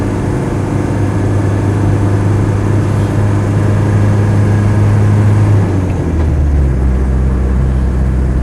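A Land Rover 110 diesel labours up a steep hill. The engine gives a loud, continuous drone close by, and its pitch drops and shifts near the end as the load changes.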